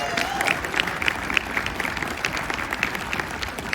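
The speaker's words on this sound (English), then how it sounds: "Give yourselves a round of applause" Outdoor crowd clapping at a No Kings rally in the Little Apple, steady scattered applause with a few cheers, moderately loud, with a voice faintly underneath.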